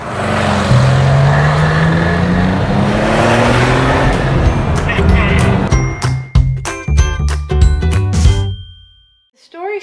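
A Porsche 356 idles and revs with a steady low engine drone, then runs in uneven bursts with clicks and knocks while getting rolling, cutting out near the end; speech may be mixed in.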